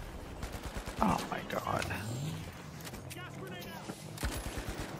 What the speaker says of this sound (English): Is someone else shooting?